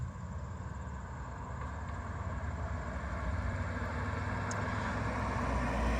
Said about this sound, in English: Here's a car coming so we get an idea of what road noise is like.